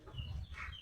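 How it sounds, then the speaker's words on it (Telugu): Chickens on a buffalo dairy farm give a short, faint cluck over low rumbling farmyard background, lasting under a second. "దీంతో పాటు కోళ్ళు కూడా ఉన్నాయన్నమాట"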